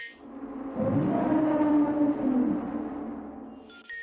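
A warped, droning siren wail swells in and holds for a few seconds, low and distorted, then fades out with a brief higher tone at the end.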